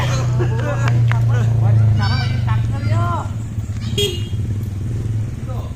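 A motorcycle passes close by at a monument site in Ciamis, its engine hum rising and falling under a steady drone while people talk and chatter nearby.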